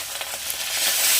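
Pieces of rui fish sizzle in hot oil in a frying pan, a steady bright crackling hiss that swells slightly toward the end, with no voices.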